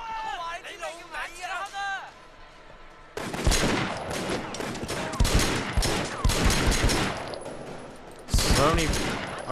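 Gunfire in Sleeping Dogs: after a quieter stretch with voices, sudden loud bursts of rapid shots crackle with echoing impacts, then a second burst near the end, with talk mixed in.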